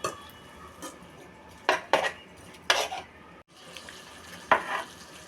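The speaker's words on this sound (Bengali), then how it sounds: "সব নেড়ে চেড়ে কষিয়ে নিব ভালোভাবে" Salt, turmeric, chili and cumin powder with a little water are stirred and fried in a pan for fish-head curry. Close metallic scrapes and clinks of a spoon against the pan come in bursts over a low sizzle.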